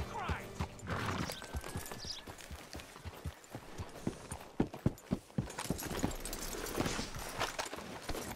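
Horse hooves clopping in the video game Red Dead Redemption 2, an irregular run of close hoof thuds on hard ground with ambient noise and faint game sounds around them.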